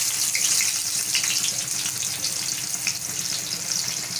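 Chopped onion fries in a pan for an eggplant masala, a loud, even hiss of sizzling oil with small crackles running throughout, no voices.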